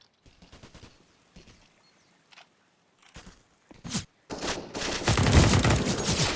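Gunfire in a Counter-Strike match on the Inferno map during a pro tournament: scattered single shots and footsteps build into a loud, dense burst of rapid fire in the final seconds.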